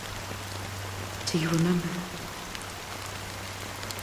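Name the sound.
rain falling in video game Honkai: Star Rail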